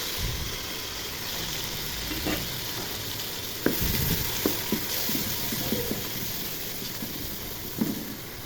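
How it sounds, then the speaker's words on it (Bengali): Ground spices with ginger-garlic paste fry in a pan for a beef bhuna, giving a steady close sizzle. Scattered spatula stirs and scrapes cut through it, and nobody talks. "মশলা ভাজা হয়ে গেছে"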